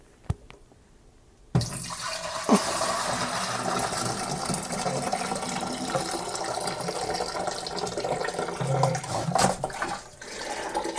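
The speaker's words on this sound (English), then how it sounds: "it is now time to transfer it to our fermenter. This time around, I think I'm going to just try and pour everything in" Apple pie mead must being poured into a fermenter, a steady continuous splashing liquid rush that starts abruptly after a brief quiet moment and runs on loud and close before tapering near the end.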